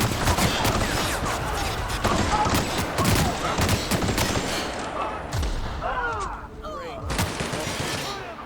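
Sustained bursts of gunfire from The Outer Worlds, dense overlapping shots and thuds running almost continuously, with voices talking over the shooting.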